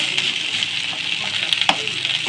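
Leaves frying in a pan for chutney, an even close hiss of sizzling oil with small crackles and one brief stir or knock.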